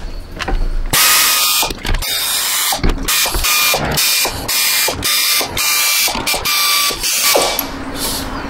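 Ratchet wrench cracking loose a series of bolts on a Chevrolet Trax water pump: loud, close, rapid clicking bursts repeat in quick succession with brief pauses between strokes.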